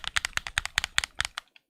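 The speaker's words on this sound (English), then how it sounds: "This is my Switch 1 Pro controller. They sound like this." Analog sticks on a Nintendo Switch 1 Pro Controller click in a quick, close, evenly spaced series of about a dozen sharp paired taps, heard alone and quiet.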